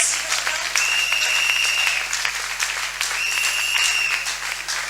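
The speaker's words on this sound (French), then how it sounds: "on acclame pour notre bien-aimé Gans" A live concert audience applauds warmly, a dense and steady wash of clapping that lasts throughout, with a faint voice rising above it now and then.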